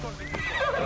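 A short, sharp horse whinny rises and falls in under a second in the video game Assassin's Creed Odyssey, close and fairly loud.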